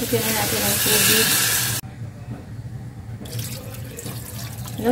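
Water pours from a tap into a cooking pot holding beef innards, salt, beef cubes and black pepper: a loud rushing stream that cuts off abruptly, followed by quieter hissing and clatter, with a voice talking faintly.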